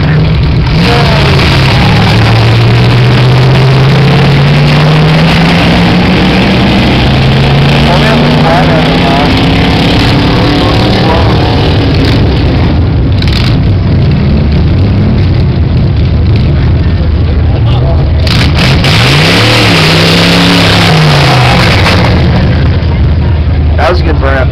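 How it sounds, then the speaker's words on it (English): Drag racing car at the Barona drag strip roaring through a burnout, its engine revving in rising sweeps that climb and fall repeatedly, loud and sustained, with people talking over the noise. "That was a good burnout, though."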